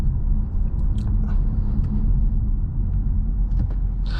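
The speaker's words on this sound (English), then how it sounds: "you do hear some road noise, but it's nothing at all too concerning" Steady low road rumble fills the cabin of a 2024 Kia Seltos with an 8-speed transmission on the move, a constant droning hum with a few faint ticks and no talking.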